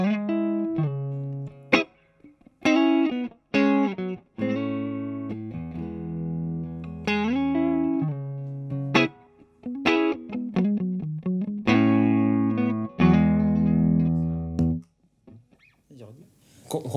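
An electric guitar played with a clean tone, no pedals yet, picks out chords and single notes. The phrases are bright, separate and clearly articulated, with short gaps between them.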